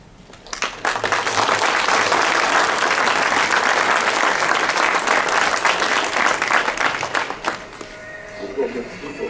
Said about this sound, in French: Je vous remercie pour vos applaudissements.